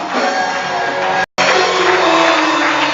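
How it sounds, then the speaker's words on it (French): A church congregation shouts for joy during a French-language worship service, a loud, sustained crowd roar that breaks off for an instant near the middle and then resumes at full strength. "Pousser des cris de joie."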